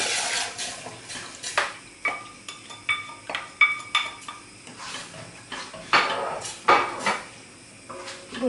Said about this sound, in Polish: Budyń mieszamy i studzimy.